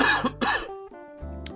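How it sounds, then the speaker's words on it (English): A brief cough from a man, two quick close hacks followed by a short throat-clearing rumble, loud and alone in a quiet room. "I'm just going to have a brief cough"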